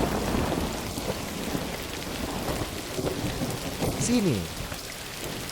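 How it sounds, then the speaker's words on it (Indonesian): Heavy rain pours steadily while thunder rumbles through the downpour, and a voice speaks briefly over the storm. "Kenapa tiba-tiba hujan deras sekali?"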